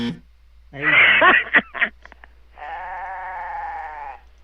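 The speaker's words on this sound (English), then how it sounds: "I've got a goat in my living room" Bleating from a goat kept indoors in a living room: a short harsh cry near the start, then a sustained wavering bleat of about two seconds, loud and close, with no talk over it.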